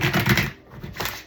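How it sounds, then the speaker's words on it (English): Tarot cards shuffled by hand, a quick close riffle of papery flicks followed by a short pause and a second brief rustle, fairly loud with no talking. "I'm going to give it one more shuffle."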